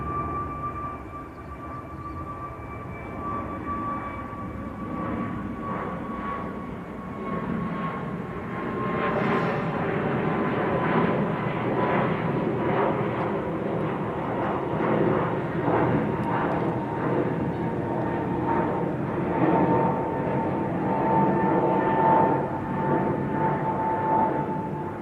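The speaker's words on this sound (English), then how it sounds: "I just heard the engine noise." A steady, roaring jet engine drone from a passenger plane at Manchester Airport, continuous and loud, with a faint high whine gliding slowly downward.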